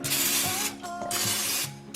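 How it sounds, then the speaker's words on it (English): Two bursts of canola oil cooking spray hissing loudly up close as it greases the inside of a baking dish, separated by a brief pause, with a faint mechanical whir underneath. "We're gonna take our canola oil spray and just lightly"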